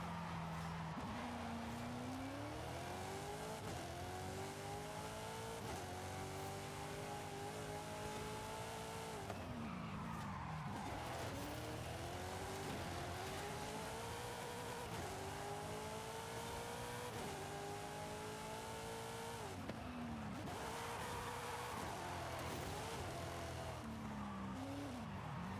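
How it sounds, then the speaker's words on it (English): A rally car in Forza Horizon 5 revs hard through repeated gear shifts, the engine whine climbing and dropping in steady cycles over continuous tire squeal and skidding, loud and unbroken throughout. "Drive it as if you was driving a rally car"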